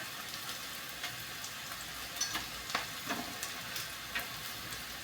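Onion frying in a pan for a monsoon wild-vegetable dish, giving a steady soft sizzle with a few faint scraping stirs, fairly quiet and without speech.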